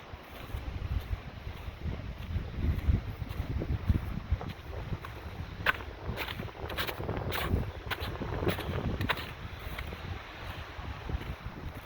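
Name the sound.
strong wind on a mountain summit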